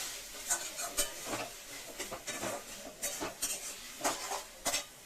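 Arum stalk and prawn curry with mustard oil is stirred in a pan, giving quiet irregular scrapes and taps of a spoon against the metal over a faint low sizzle.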